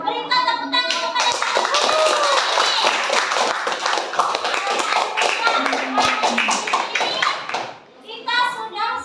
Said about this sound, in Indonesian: Berikan tepuk tangan kepada